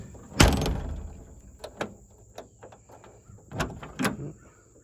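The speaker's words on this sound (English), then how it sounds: "when I close the door" Door of a 1971 Chevrolet C10 pickup truck slamming shut with a sharp metallic thud, followed by smaller clicks and latch rattles, close by.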